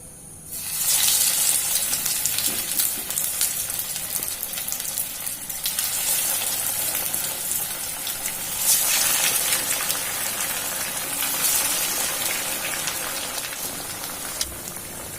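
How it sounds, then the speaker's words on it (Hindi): Breaded Maggi cutlets deep frying in hot oil, giving a loud, continuous rain-like crackle and hiss that starts abruptly and carries on steadily, close by, with no talk. "एक एक करके हम इस तेल में फ्राई करेंगे।"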